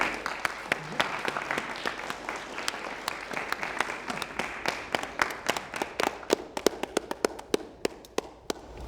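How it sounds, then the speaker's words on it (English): Applause from a group at a faculty meeting welcoming new faculty members, dense steady clapping that thins into sparser, sharper individual claps toward the end, with faint voices underneath. "let's give ourselves a round of applause"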